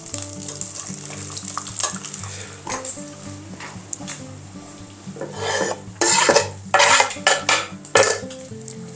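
Sheep tail fat sizzles and spits in a hot pan while a utensil clinks and scrapes against the metal, with louder stirring bursts toward the end.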